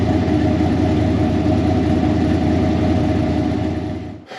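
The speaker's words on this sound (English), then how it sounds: "Right now we're still in warm-up, which is the higher idle." A car engine at high warm-up idle through new mufflers, a steady, loud, even rumble with a low pulsing chop, cutting off abruptly at the end.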